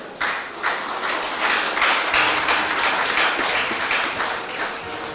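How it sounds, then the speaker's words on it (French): Applause for the bride at a Congolese civil wedding ceremony: a room of guests clapping steadily for several seconds, dense and fairly loud, with no talk over it. "Applaudissez pour elle, s'il vous plaît."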